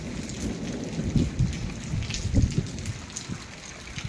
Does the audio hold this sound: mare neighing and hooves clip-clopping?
no